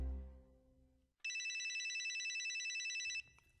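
Cell phone ringing during a theatre performance: a loud, steady electronic ring tone with a fast warble lasts about two seconds after a fading hum, then stops abruptly as a low rumble begins.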